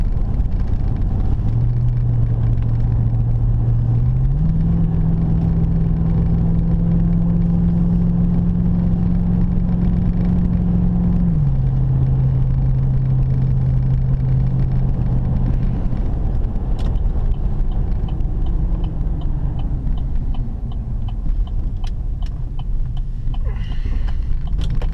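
Pickup truck driving along a dirt road toward a high-elevation lake in southwest Utah, its engine a steady, close, continuous drone with a few shifts in pitch as speed changes, running alone throughout.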